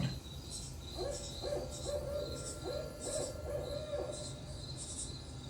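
An owl hoots in a repeated series of soft, even calls at a nature center night program, moderately distant over a low background hiss.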